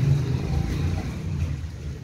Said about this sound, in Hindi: बहुत ज़्यादा ठंडी ठंडी हवा चल रही है